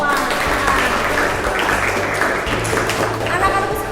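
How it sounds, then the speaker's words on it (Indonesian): A vocational high school accounting class bursts into continuous applause, many hands clapping together in a lively, fairly close wash, with a few voices mixed in. "Kita tepuk tangan untuk kita semua."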